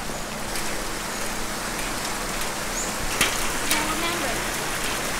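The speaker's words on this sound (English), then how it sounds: "It's a rainy day" Steady rain falls during a hike near Arenal Volcano in Costa Rica, a continuous close hiss of drops on leaves and ground with a couple of brief sharper taps, and no talking.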